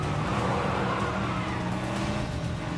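A car drives in the video game 007 First Light, a steady close engine roar with road noise running throughout and no talk over it.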